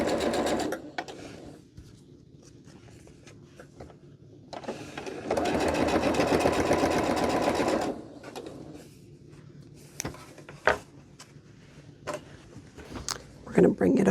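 Sewing machine stitching quilt block seams for a heirloom bloom block, running in a loud steady burst of several seconds with shorter runs before and after, a person talking over the quieter stretches.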